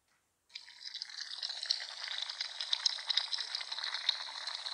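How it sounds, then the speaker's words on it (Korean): Sundae-guk stew bubbling in an earthenware ttukbaegi pot, a steady dense crackle and fizz that starts abruptly and continues close and alone for several seconds. "찌개 끓는 소리."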